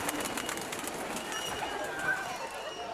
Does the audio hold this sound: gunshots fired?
no